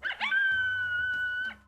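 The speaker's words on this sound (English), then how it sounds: "howls of a coyote are shorter in a high-pitched voice" A coyote gives a short, high-pitched yip, then a single steady howl held for about a second that trails off, loud and close with nothing else audible.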